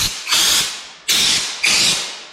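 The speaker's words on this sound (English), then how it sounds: "I'm going to make some test spray" Three sharp hissing bursts of a paint spray gun doing test sprays before painting a VW T4 Syncro underside, each starting abruptly and tapering off, close and loud with no talking.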